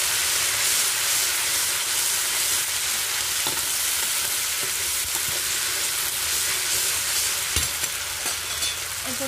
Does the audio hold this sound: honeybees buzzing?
no